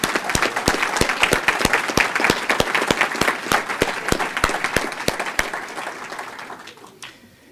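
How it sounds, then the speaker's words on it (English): Audience at the Fairport Wall of Distinction ceremony applauds honorees, families and friends, sharp individual claps standing out from a dense, loud round of clapping that gradually thins and fades toward the end. "a round of applause"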